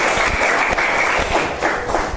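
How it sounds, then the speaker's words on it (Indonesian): A classroom of students bursts into loud, dense applause for a classmate. The clapping is close and continuous for about two seconds. "Beri tepuk tangan untuk Nurlaili."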